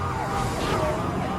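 A police car siren wails through a high-speed chase after a stolen car driven by a 12-year-old, its rising and falling tone heard over heavy road and engine noise.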